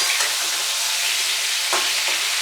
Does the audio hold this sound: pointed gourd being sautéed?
yes